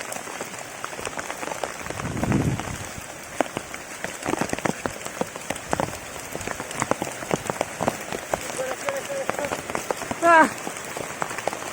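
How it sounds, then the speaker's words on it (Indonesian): Steady heavy rain patters on a surface by a lake with scattered drops, a brief louder rush and a short whistle-like sound near the end. "Hujan semakin deras ini"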